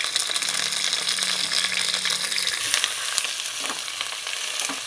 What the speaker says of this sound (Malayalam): ഇഞ്ചി, വെളുത്തുള്ളി, പച്ചമുളക്, കറിവേപ്പില ഇതൊന്ന് ചെറുതായിട്ട് മൂത്ത് വരട്ടെ